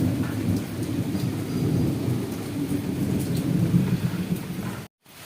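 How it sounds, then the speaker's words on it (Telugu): Heavy rain pours steadily with rolling thunder during a morning storm. The roar stays dense and continuous, then cuts off abruptly at the end. "వర్షం పడుతుంది, చూడండి ఆ సౌండ్లు విన్నారండి"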